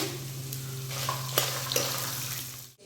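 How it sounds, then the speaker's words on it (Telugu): Ginger frying with dried red chillies and cumin in a pan for ginger chutney, a close steady sizzle with a few sharp spoon scrapes and clicks, ending abruptly. "తర్వాత ఇందులో మనం అల్లం కూడా వేసేసుకున్నాము. దీన్ని మంచిగా వేగనిద్దాం."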